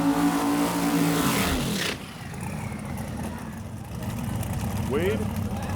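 A white 1968 Camaro race car with a big-block engine roars and revs hard at a dirt-track race, then fades into a lower drone while an announcer talks over it.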